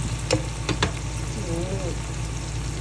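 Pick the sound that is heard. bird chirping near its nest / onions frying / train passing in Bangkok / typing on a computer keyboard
onions frying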